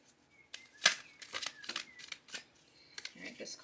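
Tarot cards being shuffled by hand, a series of quick papery riffles and flicks, close and fairly soft, with a brief burst near the start and irregular rustles after.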